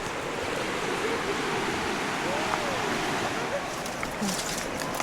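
A river flows briskly through a park, a constant broadband rush of water close by, with faint voices and small sounds over it.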